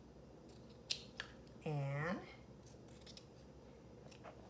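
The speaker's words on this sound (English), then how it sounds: "I just get the scissors" A single brief snip of scissors closing through fabric, heard close up among faint handling noises, with a person speaking softly nearby.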